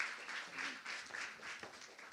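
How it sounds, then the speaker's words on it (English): Applause for a finalist at a women's empowerment conference, a steady wash of many hands clapping at moderate volume for about two seconds, with faint voices mixed in. "Please give her a huge round of applause just one more time."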